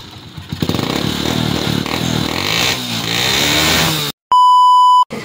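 A Honda TMX Alpha motorcycle engine fires after a single kick start and idles close and loud with a steady, throbbing rhythm for about four seconds. It cuts off abruptly, and a sharp electronic beep follows.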